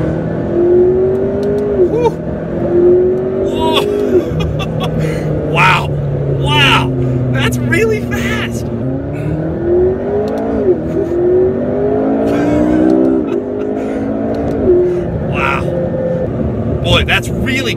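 A McLaren MP4-12C sports car with a dual-clutch gearbox accelerates hard, its engine note climbing steadily and dropping at quick gear changes, heard from inside the cabin under continuous talking.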